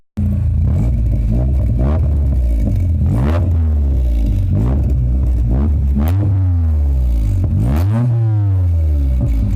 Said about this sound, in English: It sounds decent. Like, it doesn't sound like a raspy, annoying Honda, like as most people would assume.